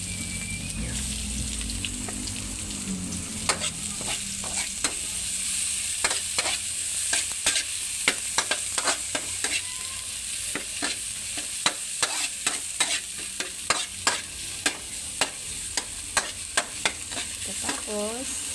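Onions frying in a pan with a steady sizzle while a utensil stirs them, scraping and clacking against the metal in frequent sharp strokes that grow busier toward the end, with no talking.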